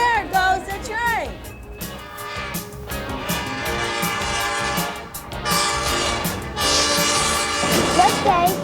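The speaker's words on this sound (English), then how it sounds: "There goes the train." A train rolls past with a horn sounding early, a loud rumbling and clattering wash of rail noise that swells and fades, layered with a music bed and a few voices.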